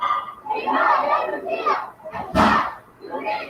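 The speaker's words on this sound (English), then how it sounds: "A social media video shows a crowd near the Latakia airport and a Russian military base chanting, "People want Russian protection."" A crowd chanting in unison near Latakia airport and a Russian military base in Syria, loud rhythmic massed voices in waves with a sharp thump partway through, sounding close and rough.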